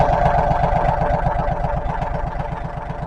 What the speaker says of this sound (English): Go ahead and start your tractor up.